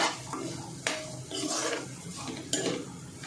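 Cabbage and chana dal stirred in a pan for a quick lunchbox vegetable dish, with a spoon scraping and clinking against the metal in irregular strokes and a few sharper knocks, close and moderately loud with no talking.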